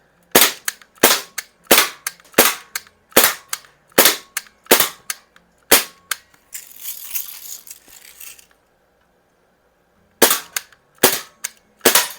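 A Healthways Plainsman MX175 CO2 BB rifle fires a string of sharp, close cracks at a steady pace, a brief hissing rush in the middle, then a few more shots after a pause.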